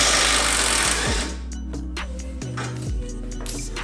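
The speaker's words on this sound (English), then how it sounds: "Impact gun is going to be the easiest." An impact gun on a long extension removes brake bolts from a Nissan 240SX S14. It makes close, buzzing rattles in several bursts, with brief pauses and metallic clinks between them, and no voices.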